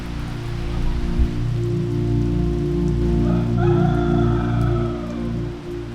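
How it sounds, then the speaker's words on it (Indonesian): Rain falling in a village with a river running behind it, a steady rushing wash with a low continuous hum, and a faint howl-like tone rising midway. "Boleh dengar bunyi hujan dengan sungai di belakang je."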